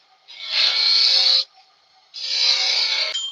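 A wooden cup is hollowed out on a woodturning lathe, with two sustained bursts of bright, rasping cutting, each lasting about a second, separated by a short near-silent pause.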